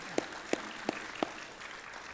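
Applause from a church congregation comes through as four sharp, evenly spaced claps followed by a fainter patter, in a quiet reverberant room.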